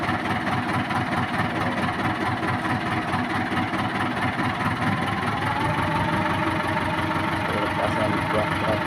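A tractor engine idles steadily and continuously at close range, a constant low rumble with faint knocking vibration that never changes pace, while people talk over it.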